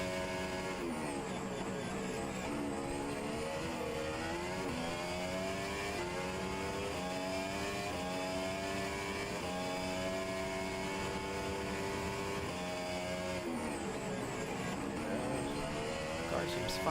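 Onboard F1 race car engine during a Canadian Grand Prix in a racing game, a continuous loud high-pitched whine rising and falling through gear shifts, with a commentator's voice over it.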